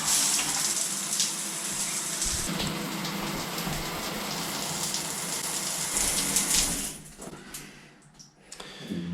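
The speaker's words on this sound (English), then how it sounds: "I'm going to show you what happens when you turn on the water" Water runs steadily in a walk-in shower, a continuous hiss of spray hitting the floor that cuts off near the end and leaves a quieter pause.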